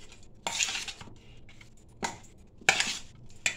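Cooked food is mixed in a metal vessel with a spoon, three or four distinct bursts of scraping and clinking separated by quiet pauses, close and moderately loud, with no talk.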